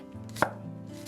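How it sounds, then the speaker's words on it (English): A knife slices through red onion on a cutting board, giving two sharp, close chops about half a second apart with a faint hum between them. "I'm going to slice up some red onion"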